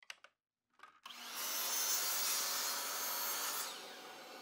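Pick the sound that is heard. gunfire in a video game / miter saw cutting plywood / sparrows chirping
miter saw cutting plywood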